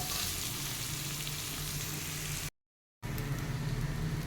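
Cooked rice is stirred into a frying pan for butterfly pea flower fried rice, giving a steady close sizzle with soft scraping, briefly cut off by a moment of silence before the frying noise resumes.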